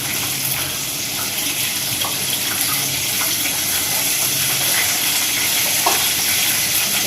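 Fried chicken sizzles steadily in a pan, a dense, loud, continuous hiss with faint pops and crackles throughout and no talking.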